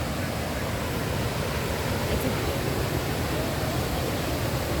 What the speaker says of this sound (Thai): วันนี้เราอยู่กันที่น้ำตกเกิงกระเวียนะคะ มาเมื่อสามเดือนที่แล้วไม่มีน้ำเลยตอนนี้น้ำเยอะมาก